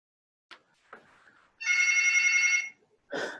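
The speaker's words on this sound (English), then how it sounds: "I've got the hotel phone going off in the background" A hotel telephone rings in the background in a single sustained electronic trill, with a second burst starting after a short gap, moderately loud in a quiet room after a couple of faint clicks.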